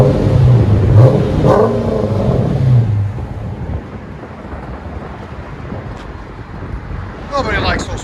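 A Dodge Challenger R/T with a HEMI V8 and Flowmaster Flow FX mufflers gives a deep, loud exhaust rumble that fades to a lower drone, with strong wind noise and a voice speaking over the start.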